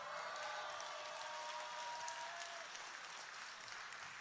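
A concert crowd at a show applauds right after a song title is announced, broad sustained clapping with a faint whistle early on, no speech.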